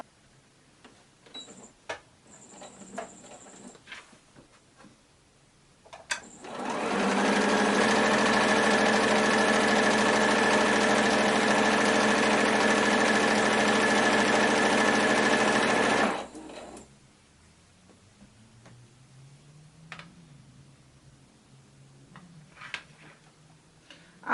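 Sewing machine stitching scrap fabric strips for a scrappy quilt, a steady loud mechanical whir running continuously for about ten seconds, bracketed by quieter handling and light clicks before and after.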